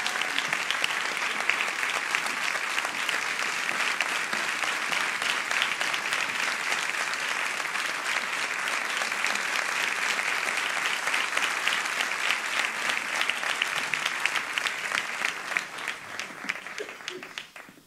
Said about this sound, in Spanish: Por favor, salid y recibid vuestro aplauso.